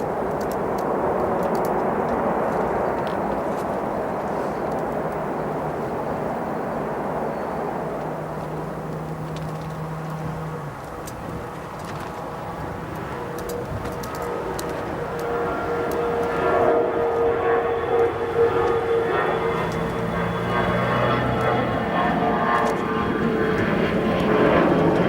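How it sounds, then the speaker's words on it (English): A jet airliner rolls out on runway 28 Center at O'Hare after touching down in rough conditions, its thrust reversers building a broad, steady roar that swells toward the end, heard from a distance with no voices. "Great landing in these conditions by those pilots as they're going to apply reversers on 28 center."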